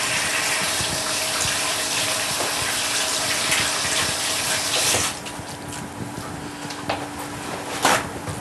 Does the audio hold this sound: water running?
yes